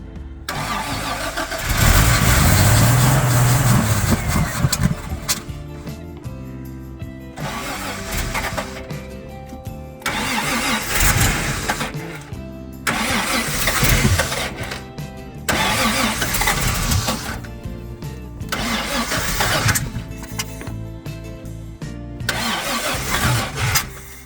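A Toyota FJ55 Land Cruiser engine cranks in the cold in repeated long bursts separated by short pauses, each a loud, close, labored churning with no sign of firing.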